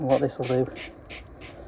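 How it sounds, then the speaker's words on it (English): Fallout eliminator is sprayed onto the paintwork of a 2009 Ford Ka in a series of short hissing bursts, close by, with someone speaking over the first sprays. "I'm going to just go around with some fallout eliminator, spray that on"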